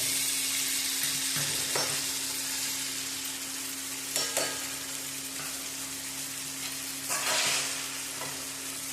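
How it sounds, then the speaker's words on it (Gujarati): Stuffed spiny gourd (kantola) with masala being gently stirred in a hot pan, a continuous sizzle broken by a few soft scraping strokes of the spoon, with a low steady hum beneath and no talking. "આપણે આવી રીતના હળવે હળવે ફેરવવાના કે આ કંટોલાની નાખે બધો મસાલો મેશ થઈ જાય મસ્ત."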